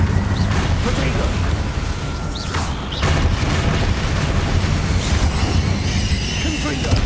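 Confringo blasting spell explosions in Hogwarts Legacy, heavy booming bursts over continuous loud game rumble and effects, with talk over it.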